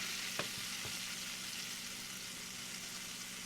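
Butter and olive oil sizzle in a frying pan, a dense, even hiss with a couple of small ticks near the start.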